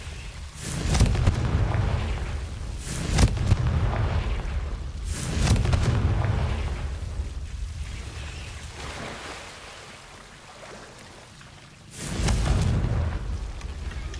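Confringo blasting spell explosions in the game Hogwarts Legacy, a series of deep booming blasts about every two to three seconds, each swelling and rumbling away, loud and alone.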